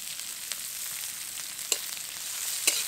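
Chopped pointed gourd leaves frying with browned onion in a village kitchen, a soft steady sizzle with a few brief sharp crackles.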